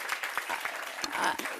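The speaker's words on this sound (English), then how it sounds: "now another round of applause for Marcia Dyson" An audience claps for a speaker at a meditation museum grand opening, a brief scattering of distinct hand claps, moderately close and fairly sparse.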